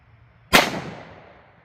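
A single sharp gunshot comes from a 357 Sig pistol firing Underwood 90gr Xtreme Defender ammunition. It is loud and close, with a fast crack followed by about a second of decaying echo.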